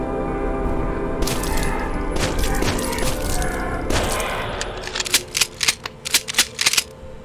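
Rapid bursts of gunfire in the shooter video game Neural Rot: a sustained volley of shots gives way to a series of distinct, separated loud cracks toward the end.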